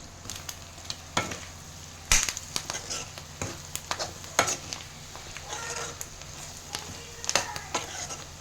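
Mutton kheema with fresh coriander cooks in a pan, soft sizzling under irregular spatula scrapes and sharp clinks against the metal, close and moderately quiet.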